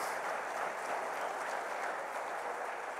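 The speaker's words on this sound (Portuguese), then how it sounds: "Aplauda a palavra do Senhor." A church congregation applauding after a sermon, a steady wash of many hands clapping at an even, sustained level, somewhat distant and soft, no voices standing out.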